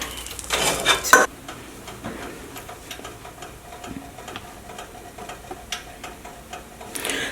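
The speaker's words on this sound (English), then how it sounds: "I'm gonna clean my pan so I can start combining all my yumminess together" A pan being cleaned in a kitchen, opening with a burst of loud scrubbing and metallic scraping, then quieter intermittent clinks and faint rubbing.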